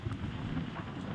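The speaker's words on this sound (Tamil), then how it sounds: "பயங்கர காற்றடிக்குது, ஃபோனை கூட தள்ளுது பாருங்களேன்" Strong wind buffeting a phone microphone, a steady low rumbling roar of gusts lasting about a second with no voices.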